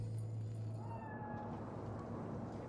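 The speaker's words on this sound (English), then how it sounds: "Do you see it? The cat? Fine-looking feline." A cat in the Cyberpunk 2077 game world gives a soft, drawn-out meow over a low steady background hum, fairly faint and alone.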